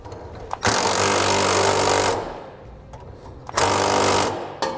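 A power tool runs in two long, loud, close bursts while tightening the bolts during installation of a B and W fifth wheel trailer hitch in a 2014 Toyota Tundra, with a quieter gap between the bursts.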